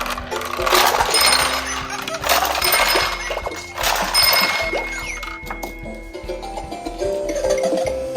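A Shark Fever pachinko machine rattles busily up close, with dense metallic clinks and clatter of balls dropping and paying out over a steady mechanical whir and tones.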